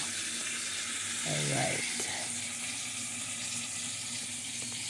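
Tap water runs steadily into a sink while asparagus and spinach are washed, a soft continuous hiss with a brief spoken word partway through.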